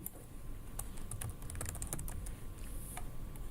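Quiet, rapid clicking of keys on a computer keyboard as a name is typed in, a steady run of light taps with no talking.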